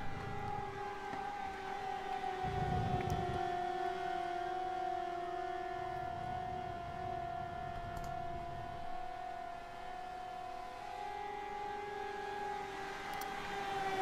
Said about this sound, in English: Apologies if you heard the siren.